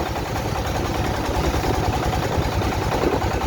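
A boat engine drones steadily on the Meghna river near the Bhairab bridge, a continuous low rumbling hum with broad noisy vibration and no break, close and unchanging.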